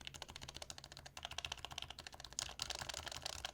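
An unlubed HHKB Professional Hybrid Topre keyboard is typed on up close, with a rapid, uneven stream of soft thocky keystrokes and a slight rattle, the typing growing busier and louder toward the end, with no talking.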